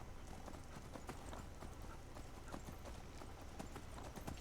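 Hooves of a horse galloping in the video game Skyrim, rapid repeated clip-clop beats in a steady rhythm, fairly faint and continuous.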